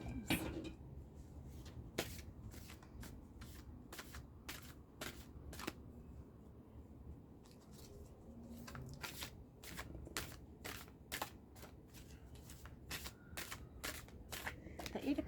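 A tarot deck shuffled eight times at a reading, heard as a string of sharp card slaps and snaps, some spaced and some in quick clusters, close and moderately quiet over a low background hum.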